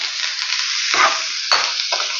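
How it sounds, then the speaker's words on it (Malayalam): Steady, loud sizzling of ground spice paste frying in a hot pan for squid thoran, with a few brief stirring scrapes breaking through the hiss. "ആദ്യം അരപ്പ് ചേർക്കുന്നത് ഇതിൽ കിടന്ന് നന്നായിട്ട് വഴണ്ട് വരണം"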